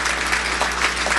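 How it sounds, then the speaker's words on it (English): An audience at a chamber of commerce event applauds in a steady, dense wash of clapping that stays loud throughout. "Can you give them a round of applause?"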